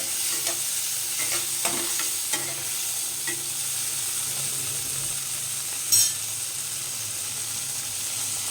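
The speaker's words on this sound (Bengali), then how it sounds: "টমেটোটা নরম করে টমেটোটা ফ্রাই করে নেব।" Chopped tomato fries in a pan with an oil-and-spice tempering, producing a soft, continuous sizzle broken by light stirring scrapes and one sharp clink of the utensil against the pan.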